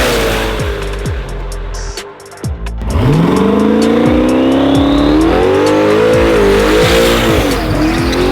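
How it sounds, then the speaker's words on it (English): A 1200 horsepower turbo Trans Am engine revs loud and close, dipping briefly near the two-second mark before climbing in a long, steady rising roar that holds to the end. "we're giving away this 1200 horsepower turbo Trans Am"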